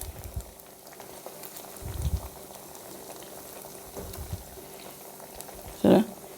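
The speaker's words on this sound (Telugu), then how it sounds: "ఇలా తిప్పుతూ ఉంటే మెల్లిగా సిమ్లో వేగుతుంది" Rice cutlets shallow-frying in a pan on low flame, a soft, quiet bubbling sizzle with occasional brief louder bursts and one sharper splutter near the end, with no one speaking.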